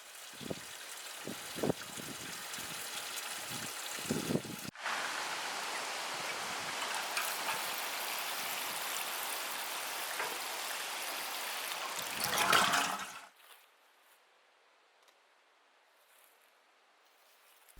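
Water pours steadily over newly planted garden plants, a broad continuous splashing and trickling that runs for about eight seconds after some rustling and handling noises, then stops abruptly into near silence.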